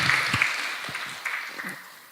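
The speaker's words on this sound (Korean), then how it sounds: "박수." A small gathering at a church conference claps briefly, a loose patter of hands sounding close and moderately loud, gradually thinning and fading over about two seconds.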